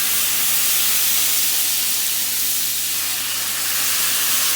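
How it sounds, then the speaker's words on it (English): Beef bouillon poured slowly into a hot pan sets off a loud, continuous steam hiss that holds steady throughout, with a faint low hum beneath. "We're going to put the beef bouillon in."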